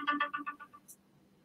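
A phone ringtone plays a short falling run of chiming electronic notes that fade quickly. A brief faint high blip follows.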